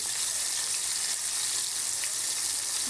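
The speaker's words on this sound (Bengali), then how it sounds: "মাছটা আগেই হলুদ, মরিচ এবং লবণ মাখিয়ে ভাজা শুরু করেছি" Steady, dense sizzling of tilapia fish, coated in turmeric, chilli and salt, frying in hot oil, loud and continuous throughout with no voices.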